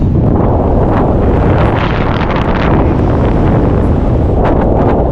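Wind at a mountain paragliding launch site on Half Moon Mountain, Wyoming, blows loud and continuous across the microphone, roaring and buffeting with small gusts throughout, and no one speaks.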